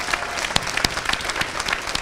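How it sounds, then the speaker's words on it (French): Audience applause for a woman motorcyclist's performance during an interview, a brief burst of scattered claps with sharp individual hits standing out, moderately loud. "J'aimerais quand même qu'on applaudisse la performance."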